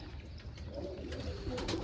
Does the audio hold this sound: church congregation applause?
no